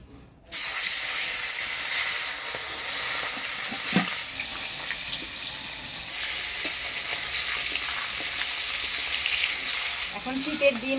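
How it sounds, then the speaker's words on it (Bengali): Small hilsa fish sizzle loudly in hot oil in a pan, a steady close frying hiss that holds throughout with occasional spatters and pops. "এবার মাছটা ভাজে নিব।"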